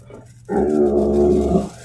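A dog gives a low, steady growl lasting about a second, close and fairly loud, starting abruptly after a quiet moment and fading out at the end.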